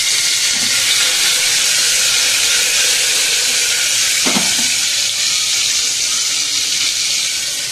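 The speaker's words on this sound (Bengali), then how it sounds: "এবার এটাকে একটুখানি ভাজবো" Marinated chicken frying in a little oil with whole garam masala and garlic, a loud continuous sizzle and hiss throughout with a brief louder spit midway.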